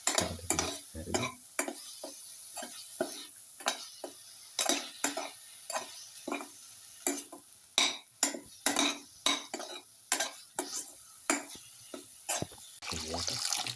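Egg pieces with spinach and cumin are sautéed in a pan, with a spatula scraping and stirring in a fast, uneven rhythm over a faint sizzle, close and steady throughout.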